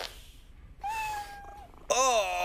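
A cat meows close by in short bursts, one drawn-out mew followed by a louder, higher cry, with a brief thump at the start and no speech.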